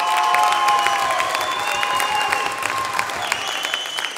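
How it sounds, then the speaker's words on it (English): A large crowd at an MMA fight night applauds steadily, dense clapping filling the space with scattered cheers and whistles, loud and sustained throughout. "please, big, huge round of applause to both fighters this evening"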